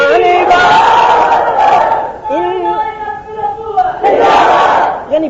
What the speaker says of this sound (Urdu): یعنی بجلی جانے پر آپ کو خوشی ہو رہی ہے، نعرے لگانا شروع کر دیا.